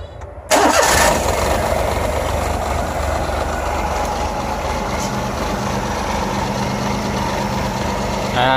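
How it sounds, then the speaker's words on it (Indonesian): Car engine cranked and started after coolant is topped up in the radiator, a sharp starter burst that catches into a steady close idle that runs alone. "saya nyalakan dulu mesinnya"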